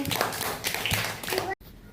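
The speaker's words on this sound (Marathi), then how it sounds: "शाब्बास, टाळ्या वाजवा रे." Children clapping in a classroom, a short burst of quick, overlapping hand claps close by, mixed with voices, cutting off abruptly near the end.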